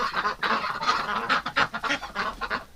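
A flock of domestic ducks in their winter pen gives loud, close, overlapping honking quacks in a steady, busy chorus.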